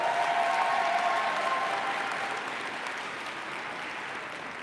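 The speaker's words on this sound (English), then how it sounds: "Let's give Benny another round of applause." Audience applause at a clean school bus event, steady dense clapping from a sizeable crowd that gradually tapers off, with a faint voice early on.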